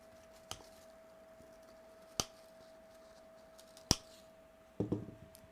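Scissors snipping off trimmed ends of a fall pumpkin lantern swag, three sharp isolated clicks spread apart, then a brief rustling cut, quiet and close.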